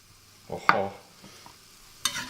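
Onion and apple frying in a pan, soft sizzle under a few scraping stirs and clinks of a utensil, close and intermittent, with no voices.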